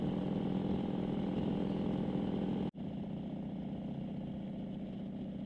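An old Harley motorcycle with home-made parts, ridden on a road with potholes, its engine droning steadily and loud throughout with a brief dropout midway before the rumble resumes.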